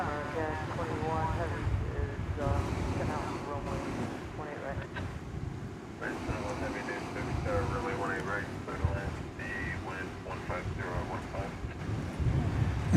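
A heavy jet airliner approaching to land at DFW Airport, a broad distant roar and rushing whine that swells steadily over wind noise, with a voice talking over it.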